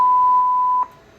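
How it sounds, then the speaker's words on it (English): A voicemail system's steady electronic beep tone, one clean, loud, single-pitched tone lasting under a second before cutting off to near silence. "To leave a voicemail, please wait for the beep."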